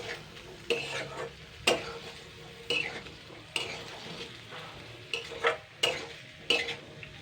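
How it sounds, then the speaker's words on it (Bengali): Egg and vegetables for fried rice made with leftover rice are stir-fried in a pan, with a soft sizzle beneath repeated scraping and clattering strokes of a spatula, close and fairly loud, roughly once a second. "এবার আমি এর সঙ্গে ভাজা করে নেবো সবজিগুলোর সঙ্গে।"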